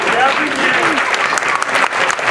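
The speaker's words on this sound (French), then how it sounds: "je vous prie d'applaudir notre président, Chedakla." Audience applause at a Tibetan Losar New Year show in Lausanne, loud continuous clapping with some voices calling out over it.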